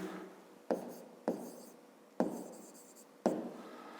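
Pen or pencil on paper in a fifth-grade maths exercise, four distinct scratching strokes each starting sharply and trailing off, close and clear with no talking.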